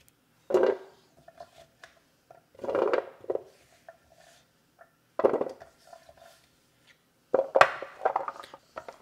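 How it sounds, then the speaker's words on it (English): Sweet potatoes go onto a metal oven baking tray in four separate bouts of close knocking and clattering, with quiet pauses between them. "So I'm gonna go ahead and put my sweet potatoes on here."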